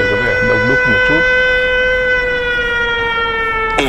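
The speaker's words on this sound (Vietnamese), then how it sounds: "Các bạn thấy còi báo động lại vang lên." Loud sustained air raid siren wailing on a main street in Kyiv, a steady held tone after some mixed sounds at the start, filling the whole stretch.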